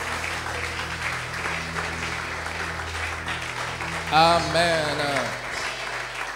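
A church congregation at a Sunday service applauds and cheers the Lord, a steady wash of clapping under a preacher's amplified voice, with a brief sung or shouted swell near the end.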